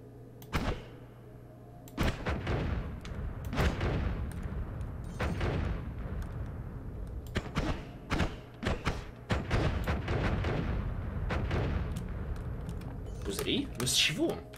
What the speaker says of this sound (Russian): Я пытаюсь понять, что взрывается.